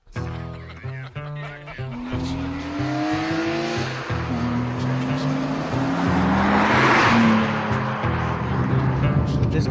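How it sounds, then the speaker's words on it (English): A 1998 BMW M3 is driven hard, the engine climbing through rising revs with gear changes and a building roar, heard from inside the car, with a voice talking briefly at the start. "This car that we're driving in right now is a 98 M3"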